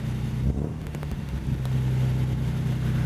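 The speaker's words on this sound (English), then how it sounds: "I think old Fred put some glass packs on there" A 1940s Special Deluxe car fitted with glass pack mufflers idles and revs, a low throaty engine rumble that swells slightly and holds steady, close by with no talking.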